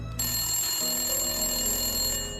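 A telephone bell rings steadily and loudly, a continuous trilling ring with bright sustained tones filling the whole moment, no voices.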